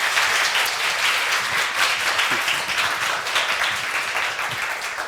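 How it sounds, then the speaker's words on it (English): An audience at a Korea University teaching lecture gives a warm round of applause to welcome the speaker, continuous dense clapping at steady loudness throughout, with a faint voice or two mixed in. "Please welcome him with a big round of applause."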